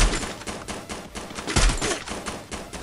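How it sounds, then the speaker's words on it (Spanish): Rapid bursts of gunfire crackle continuously, overlapping shots from weapons in the video game Free Fire with a heavier thump midway, loud and close with no talking. "Son tiros, son tiros, son tiros."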